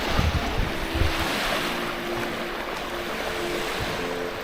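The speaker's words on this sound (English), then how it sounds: "This beach is literally 2 minutes from the campground." Surf on a beach on Bruny Island, Tasmania, rolls in as a steady broadband wash with wind noise on the microphone, waves breaking continuously close by with no voices.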